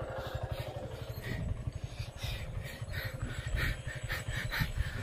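A motorcycle engine runs steadily and close by with a dense, pulsing low rumble, as if idling or moving slowly, and a faint voice comes through intermittently.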